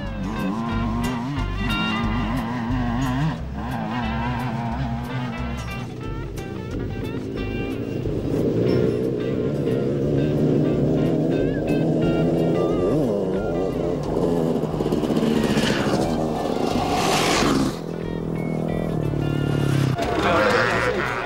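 A KTM 300 enduro motorcycle racing at the 1997 Gilles Lalay Classic, its engine droning loudly and steadily throughout, with a rising, revving whine near the end and a commentator talking over it.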